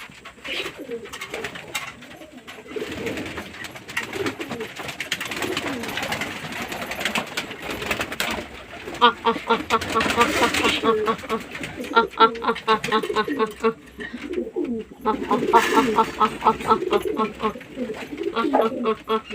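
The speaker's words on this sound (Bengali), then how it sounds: "তো দেখুন ধাড়ি পায়রাগুলো খাওয়ার জন্য চকট করছে" Adult pigeons eager for food coo steadily in overlapping low throaty phrases, a busy, fairly loud chorus with rhythmic fluttery calls and some talking mixed in.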